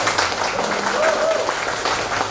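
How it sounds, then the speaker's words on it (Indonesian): Applause from an audience at a Cyber Speed Indonesia car community anniversary gathering in Wajo, a steady wash of clapping under a brief spoken voice. "Tepuk tangan."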